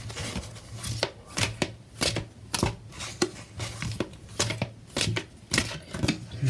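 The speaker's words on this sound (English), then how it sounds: "I'm just going to go ahead and give them a shuffle" Oracle cards riffle and slap together in repeated quick bursts, a close, crisp rhythmic shuffle alone with short pauses between passes.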